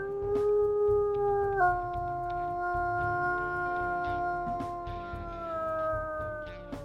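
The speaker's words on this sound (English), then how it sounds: "Let's see what his howls are too." A coywolf in the video game WolfQuest gives long, steady, deep howls, one sustained tone that steps down in pitch and then carries on, loud and alone without talk.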